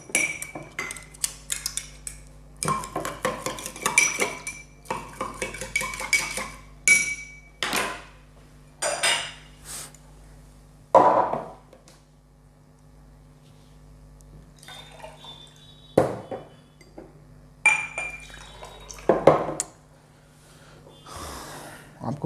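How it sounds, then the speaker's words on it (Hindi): Vegetables are mixed and rubbed by hand in Kangen water, producing irregular bursts of wet sloshing, rustling and knocks against a container, some louder and closer, separated by short quiet gaps, with a little background voice. "हम जनरली हमारे घर में जब सब्जियां धोते हैं हम उन्हें मिक्स करते हैं"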